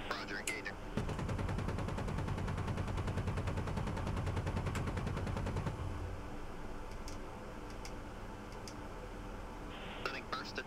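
The 30mm chain cannon of an Apache helicopter in the DCS flight simulator fires as a rapid, dense burst of rounds lasting several seconds over a steady rotor drone, then cuts off and leaves engine hum with a few faint clicks.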